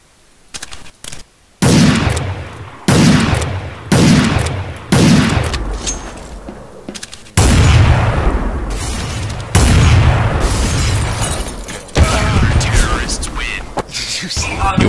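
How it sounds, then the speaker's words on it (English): Repeated bursts of video-game gunfire in a bomb-planting shooter match, loud broadband blasts and volleys spread across the clip, mixed with players' voices in between. "You weren't even shooting at anybody."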